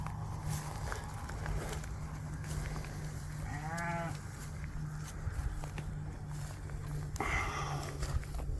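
A flock of sheep is driven through a fence choke point in a pasture, with scattered bleats and shuffling hooves over a steady outdoor background. One louder bleat stands out near the middle and another comes toward the end.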